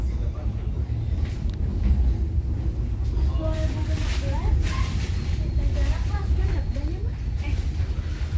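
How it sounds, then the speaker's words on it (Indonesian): A local train at a station produces a heavy low rumble that runs throughout, with speech and squeaky mechanical sounds over it in the middle section. "Nah ini ada kereta api lokal di sini ya"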